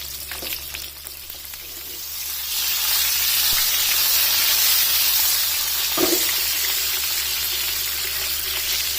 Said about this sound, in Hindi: एक साइड फ्राई होते जाए और इसे इस तरह मोड़ते जाए ताकि चारों तरफ से बहुत अच्छी तरह से ये फ्राई हो जाए।